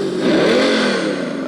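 Electronic engine sound kit in an all-metal Capo JK Max RC truck with air ride, revving up and easing back in one smooth, close, steady swell with no voices.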